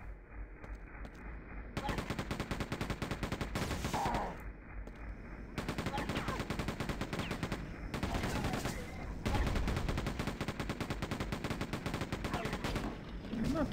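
Rapid automatic gunfire in Quake II rattles off in long, fast bursts with short pauses between them, loud and continuous over a faint game background.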